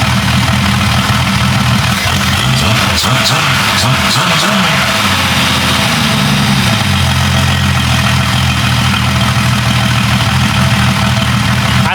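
A Jeep 5.0 stroker engine with a different-compression cam idles steadily and loudly up close, a low rumbling throb with a slight shift in tone partway through, and no talking.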